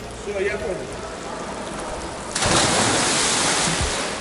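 A pro boxer drops from the highest diving tower into a swimming pool; after a quieter stretch comes a sudden loud splash that spreads into a sustained rushing wash of water.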